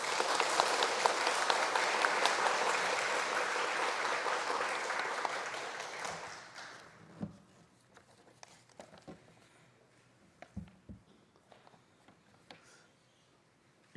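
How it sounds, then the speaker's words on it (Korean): Church congregation at a founding-anniversary service giving loud, sustained applause for about six seconds, then thinning into a few scattered claps and faint shuffling in the hall. "우리 힘차게 환영과 감사의 박수 올리겠습니다."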